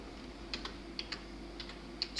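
Sparse, quiet keystrokes tap on a computer keyboard while a date is entered into Tally.ERP 9 accounting software, several separate clicks at an uneven pace in a quiet room.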